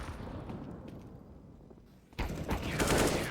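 AK rifle fire in a competitive shooter arrives as rapid sustained bursts, muffled at first and then louder and sharper after a sudden jump. Steady background game noise runs underneath.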